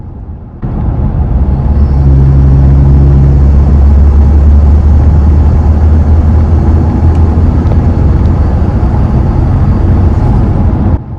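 A Toyota Tacoma SR5 engine fitted with a Banks intake, heard from inside the truck as it accelerates: a loud, steady low drone with rising tonal engine harmonics after a sudden onset, sustained for several seconds.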